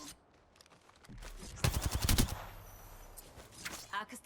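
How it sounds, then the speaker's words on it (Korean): Gunfire in the video game Apex Legends on the Storm Point map, a rapid burst of automatic shots in the middle, with scattered quieter sounds before and after. "멍청이들이 날 쏘고 있잖아"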